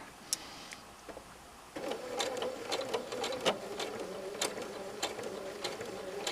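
Sewing machine stitching a pieced quilt binding, a quiet intermittent start followed by a steady close-up mechanical whir with small clicks and ticks.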